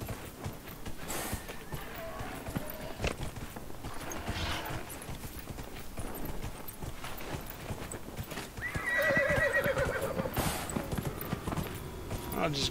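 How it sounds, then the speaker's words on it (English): Horse hooves clip-clop at a gallop in Dragon Age Inquisition, a steady rhythmic pounding with a whinny near the end, heard under someone talking. "I'll just gallop on up the hill."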